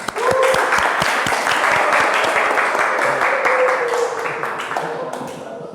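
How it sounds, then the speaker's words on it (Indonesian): A class or workshop group in Indonesia applauds together, a brisk, dense clapping that fills the room loudly and then slowly tapers, with a voice briefly audible beneath it. "Tepuk tangan untuk kita semua"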